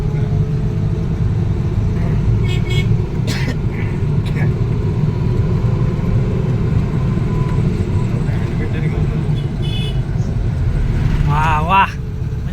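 Car engine humming steadily while the car moves slowly along a village road in Lanja, Ratnagiri, a constant low rumble running the whole time under people talking.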